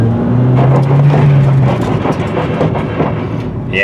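A loose wheel liner scraping on a car bought at auction while it drives, giving rhythmic rubbing and clattering over steady road and engine noise, close and loud.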